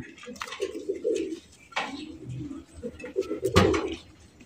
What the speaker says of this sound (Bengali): একদম সেরা একজোড়া শীতের রেসার কবুতর